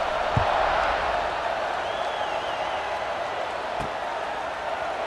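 A steady stadium crowd roar in the EA Sports College Football 26 video game, a broad continuous wash of noise during a kickoff at a Duke vs. Clemson ACC game, with a couple of brief thumps and a faint whistle over it.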